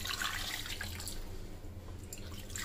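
Water pours steadily into a pot of rice seasoned with salt for degi-style white pulao, a continuous splashing, trickling stream heard close and alone.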